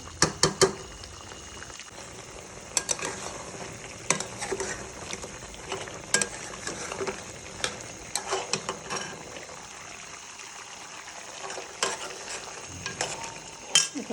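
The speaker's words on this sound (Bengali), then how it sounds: "কষানো হচ্ছে, বেশ কিছুক্ষণ কষাবো, পানিটা পুরো শুকিয়ে ফেলবো।" Duck meat stir-fried and braised in a pan for a winter dish, with scattered scrapes of a spatula and a steady low sizzle that continues throughout, close and fairly quiet, with no voices.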